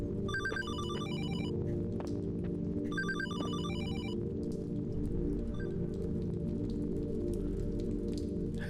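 A telephone rings in two bursts of shrill trilling bells over steady soft rain and a low hum in the horror game HollowBody, followed by quieter ambience.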